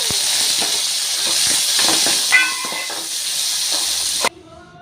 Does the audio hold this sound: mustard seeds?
yes